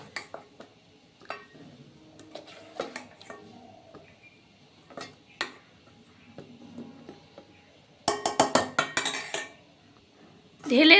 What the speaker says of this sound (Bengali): আমি এই টিফিন কৌটোতে সম্পূর্ণটা ঢেলে নিচ্ছি।